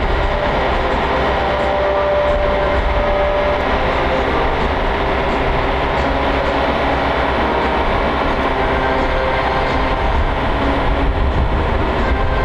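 An MV-22 Osprey tilt-rotor aircraft at a demonstration at MCAS Cherry Point roars steadily with a dense, constant rumble that holds loud and unbroken throughout, with no pause or fade.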